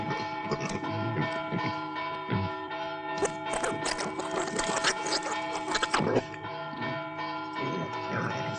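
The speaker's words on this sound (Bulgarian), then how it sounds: "Кой му е казал на Мито Босия да бие камбаната" A church bell rings in a 1983 film, its long sustained tones overlapping and echoing, with busy background commotion mixed in.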